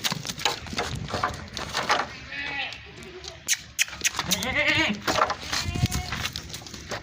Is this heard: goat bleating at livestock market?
yes